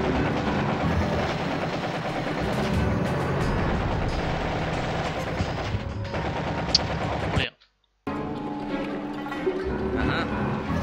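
Gunfire in the video game Commandos 2: Men of Courage, sharp bursts and rattling shots over busy game sounds, dropping briefly to silence before resuming.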